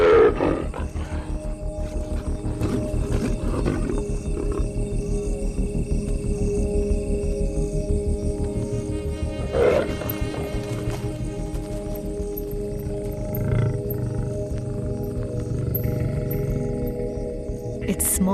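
A lioness roars and growls at night on the African savanna, deep rumbling calls rising and falling close by over about eighteen seconds, with a few sharper bursts and brief narration-like murmurs in the background.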